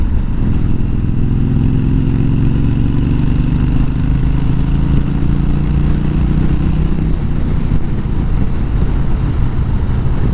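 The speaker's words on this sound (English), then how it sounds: "nice to hear the exhaust." Deep, mellow exhaust rumble from a Harley-Davidson Sportster on knobby tires while riding, a loud steady low drone with pitch rising and falling as the throttle changes, constant and close throughout.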